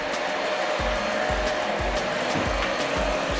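A GeeMo lightweight vacuum cleaner runs with a steady, loud whooshing roar, with repeated low thumps and bumps as it is pushed forward over pine needles on the floor, no talking.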